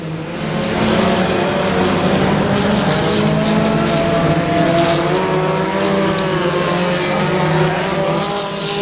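Race cars roaring continuously around the Rose Bowl Speedway oval at night, engine drones rising and falling as they pass, loud and sustained with no clear gaps between cars.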